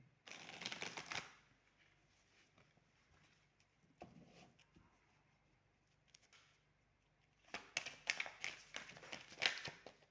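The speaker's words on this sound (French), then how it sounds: "on va aller prendre quelques cartes" Oracle cards being shuffled in two bursts of dense riffling and slapping, one at the start and a longer one near the end, with quieter handling and soft taps in between. The sound is close and fairly quiet.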